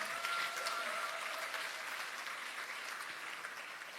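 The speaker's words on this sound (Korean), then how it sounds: "세 분께 다시 한번 큰 박수 부탁드립니다" At the Democratic Party's 70th anniversary ceremony, a large hall audience gives a steady, fairly distant round of applause, an even wash of clapping that fades slowly, with a faint voice briefly at the start.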